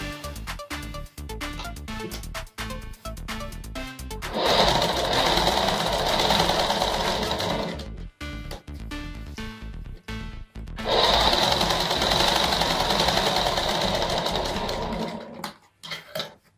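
An electric sewing machine double-stitching a petticoat seam for strength: quick clattering ticks at first, then two long, steady, loud runs of rapid mechanical stitching separated by a brief pause.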